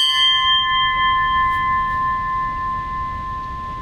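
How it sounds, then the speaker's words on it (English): A single bell struck once at a submarine veterans' membership meeting, its clear metallic tone ringing out and slowly fading over several seconds. "Ring the bell one more time for people on control."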